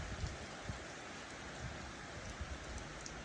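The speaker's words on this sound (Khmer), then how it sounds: "មេឃចាប់ផ្ដើមភ្លៀងមកបាត់ហើយ" Rain falls steadily over a farm field, a soft, even hiss of drops that stays faint and continuous throughout, with no thunder and no voices.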